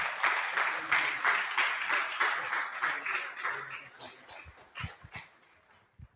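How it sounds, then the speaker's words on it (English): A gala audience at a charity event applauds in a steady burst of clapping that tapers off, with a few isolated claps and muffled noises near the end. "Let's all give him a big round of applause."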